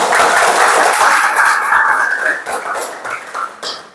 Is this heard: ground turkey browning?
no